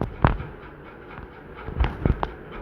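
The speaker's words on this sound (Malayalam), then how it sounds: "ആ പടക്കം കൂടി പൊട്ടിച്ചേക്കാം" Firecrackers bursting in the Roblox game Dusty Trip: one sharp pop near the start, then a quick cluster of three cracks toward the end, fairly close over a quiet background.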